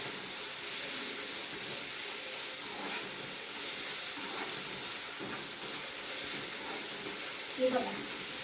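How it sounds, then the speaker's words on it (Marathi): Roasted tomato sautés in a pan with a spiced tempering, giving a steady, even sizzling hiss with no pauses and only a faint clink near the end. "आता टोमॅटो परतून घ्यायचा 1-2 मिनिटांसाठी"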